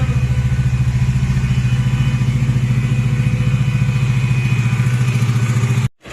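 Radiator fan on a Bajaj Dominar 400 motorcycle running during a service, a loud, steady whirring drone with a fast rhythmic flutter, close up and continuous until it cuts off abruptly near the end.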